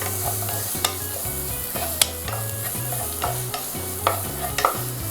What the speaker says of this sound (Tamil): பொடியாக நறுக்கின வெங்காயத்தை வந்து போட்டுருவோம். போட்டுட்டு நல்லா ஒரு வாட்டி வதக்கி விட்ருங்க.